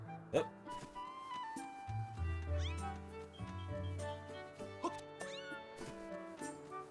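A cat in the video game The Legend of Zelda: Skyward Sword meows repeatedly, several clear drawn-out cries over a soft musical backing, fairly close and prominent.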